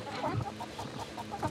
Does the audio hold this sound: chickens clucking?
yes